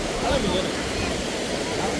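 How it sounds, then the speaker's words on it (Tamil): Steady rushing water from a breached main dam in Mannar fills the whole stretch, a broad continuous roar like a strong flow pouring through, close and unbroken. "அவ்வளவா தண்ணி வேகமாக ஓடுது ஓரளவாக தான் வருது"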